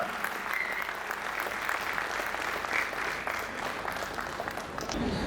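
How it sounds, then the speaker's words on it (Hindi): Sustained applause from a mushaira audience in Pune greets a poet as he takes the stage, a dense, steady wash of many hands clapping throughout with no speech over it. "एक बार तालियों की गूंज में इस्तकबाल कीजिए शर्जील अंसारी"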